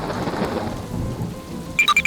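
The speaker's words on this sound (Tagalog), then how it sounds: "Bumuhos ang ulan at malakas ang kulog at kidlat." A thunderstorm with heavy rain pouring steadily and low rumbling thunder rolling underneath, dense and continuous, with no voices.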